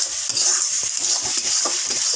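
Ghee stirred into a pan of rice, moong dal and squash, giving a close, bright sizzle with quick repeated scrapes and taps of a spoon against the metal pan.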